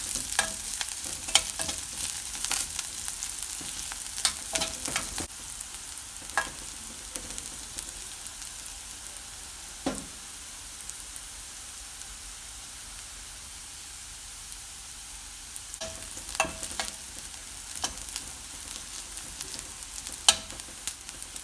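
Asafoetida and kanthari chillies frying in hot oil in a pan, a continuous fine sizzle with scattered crackles and stirring clicks, louder bursts at the start and end around a quieter steady stretch.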